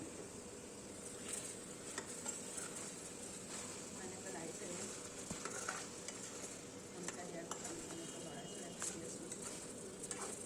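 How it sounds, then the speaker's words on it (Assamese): Mutton with raw papaya and potato being stir-fried in a pan, a steady low sizzle with scraping stirs throughout, heard faintly under a background hum. "মাংসই যেতিয়ালৈকে তেল নেৰে মই তেনেকৈ ভাজি আছোঁ"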